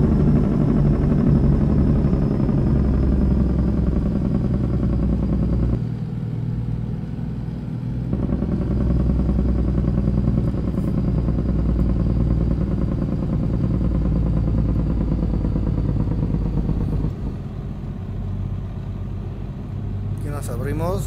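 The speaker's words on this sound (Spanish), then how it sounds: "bajando con freno de motor" A Kenworth T800 truck in American Truck Simulator rolls downhill on a winding Colombian road with its engine brake on. A deep, steady droning growl dips briefly twice, and someone talks over it throughout.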